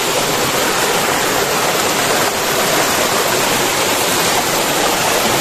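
Loud, steady broadband rush of a river stream flowing through a forest, continuous and close with no other sounds standing out.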